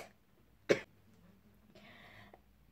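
A single sharp cough breaks a near-silent room, followed a moment later by a soft breathy exhale; close and brief.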